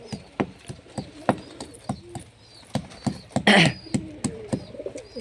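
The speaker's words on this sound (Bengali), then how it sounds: "আয় এই দেখো কিভাবে ছুটে আসছে, সব পায়রা সব ছুটে আসছে।" Sharp wing claps and fluttering bursts as a flock of pigeons arrives, with scattered soft coos and one loud flurry of flapping midway.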